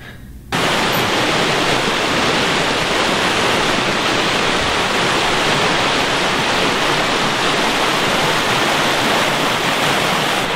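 Creek water rushes steadily and loudly, a dense, unbroken hiss and roar of flowing water that begins abruptly and holds at the same level throughout, with no talking.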